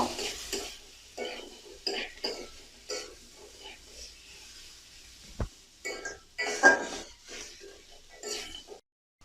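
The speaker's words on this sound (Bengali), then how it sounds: "এবার আমি এর মধ্যে দিয়ে দেব ভেজে রাখা কুচো চিংড়ি মাছ। ভালোভাবে মিশিয়ে নেব।" A spoon stirs fried small shrimp into a banana flower curry in a pan, making intermittent scraping and clattering strokes with a faint sizzle, close by. A voice speaks between some of the stirs.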